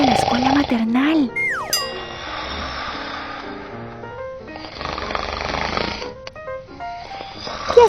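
A voice imitates a dog's snoring while reading a children's story aloud, with exaggerated rasping snore sounds, whistling pitch glides and a few chime-like effects between them.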